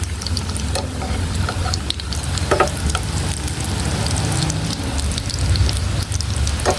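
Potato tuna croquettes fry in hot oil with a loud, continuous sizzle and crackle that stays steady throughout, with no talking over it.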